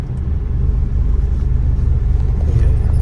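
A car drives steadily in third gear at about 30, its engine giving a loud, continuous low rumble throughout with no talk.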